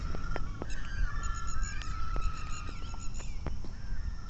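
Geese honk repeatedly in a noisy flock on a lake near Peth Vadgaon, Kolhapur, calls overlapping and echoing over open water, some near and some farther off.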